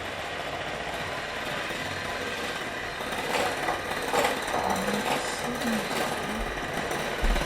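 Electric hand mixer whirring steadily through jello cake batter, a continuous motor drone that swells slightly louder partway through, with faint background sounds and no clear talk.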